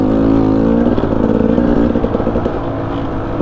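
Beta Xtrainer 300 motorcycle pulling hard in third gear, a loud, close two-stroke engine note that stays strong, with a steady harmonic rise before the revs settle into uneven bursts, with no talk.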